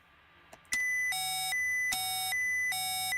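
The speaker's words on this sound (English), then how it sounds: "So there is something wrong with their implementation of the caution and warning system." Caution and warning alarm in an Apollo 13 spaceflight simulator game, a steady electronic tone broken by repeated high two-note beeping bursts at an even rhythm, clear and prominent with no voices.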